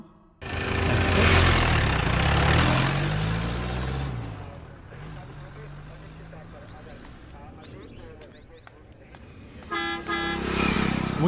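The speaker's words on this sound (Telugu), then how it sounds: "అమ్మ బస్సు వచ్చేస్తుంది." A bus pulls in with a loud engine roar and sliding horn blasts up front, then a lower rumble and a sharper honk toward the end, with voices talking over the street noise.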